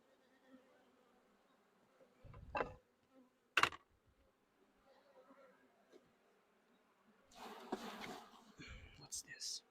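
Honeybees buzzing around an opened hive holding a nuc colony in midsummer in Pennsylvania, a faint steady hum broken by a few close bumps and handling noises.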